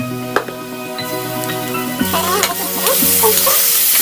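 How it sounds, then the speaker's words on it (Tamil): Tomatoes, dried red chillies, onion and fennel seeds are sautéed together with chickpeas in a hot pan, giving a steady sizzle with stirring scrapes and light clinks of a spoon, close and continuous. "நம்ம அந்த தக்காளி, காஞ்ச மிளகாய், வெங்காயம், பெருஞ்சீரகம் வதக்கி வச்சது இந்த மாதிரி குறைன்னு வதக்கி இதில் ஆட் பண்ணிக்கோங்க"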